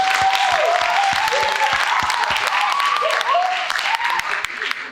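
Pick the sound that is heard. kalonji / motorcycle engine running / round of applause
round of applause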